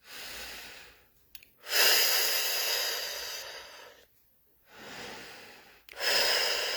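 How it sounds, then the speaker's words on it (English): Slow, deep meditative breaths come close and soft, two long airy inhales or exhales separated by near-silent pauses, with a third breath beginning at the end. "let's take a breath here and breathe through them"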